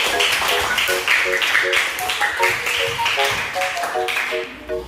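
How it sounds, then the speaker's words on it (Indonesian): Elementary school children in a classroom clap hands together in a quick, rhythmic pattern, close and fairly loud, with light tonal pings and faint voices mixed among the claps. "beri tepuk tangan itu benar adik-adik"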